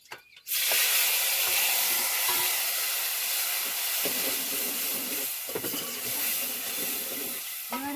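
Mustard seeds and cumin tempering in hot oil for a home-cooked dish burst into a loud, sudden hiss after a brief quiet start, then hold as a steady close sizzle with faint clinks underneath.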